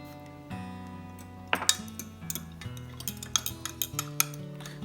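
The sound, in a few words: mixing yeast and ingredients for donut dough in a bowl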